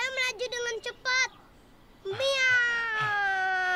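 A cartoon cat meows several times in short, bright, voiced calls, followed by a longer drawn-out meow, with a clean studio sound and no background.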